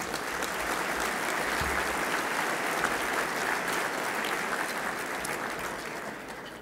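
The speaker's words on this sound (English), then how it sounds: "Let's give them all a round of applause." Audience applause fills a banquet hall at a business community's annual dinner in Lexington, a dense, steady clapping from a large crowd that holds for several seconds and tapers slightly at the end.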